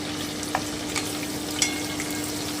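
Chopped tomatoes fry in a pan for a fish-egg curry, giving a constant soft sizzle with a few light spoon taps and scrapes.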